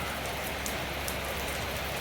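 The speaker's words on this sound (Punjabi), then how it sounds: "ਹਾਏ ਰੱਬਾ ਕਿੰਨਾ ਮੀਂਹ ਆ ਗਿਆ" Steady, heavy rain pours down in a continuous hiss, with scattered drops pattering on a surface nearby.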